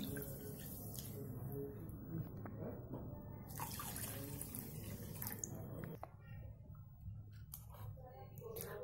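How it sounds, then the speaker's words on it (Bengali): Water pours into a pot holding sugar for syrup, a continuous splashing flow over a low background hum, ending with a few faint knocks and clatters. "আর দিয়ে দিব দুই কাপ পানি"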